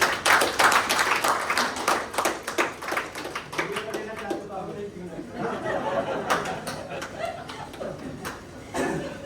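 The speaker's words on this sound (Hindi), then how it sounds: "एक बार जोरदार ताली कैंगन के लिए।" An audience at a Kangen water demonstration claps in a loud burst that thins into scattered claps, with people chattering throughout.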